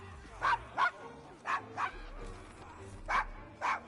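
A dog in Assassin's Creed Syndicate barks in short, sharp bursts, roughly eight yips in quick uneven pairs, fairly close against a low game backdrop.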